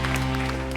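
Church congregation clapping in applause, a steady dense patter of many hands heard briefly and at moderate level.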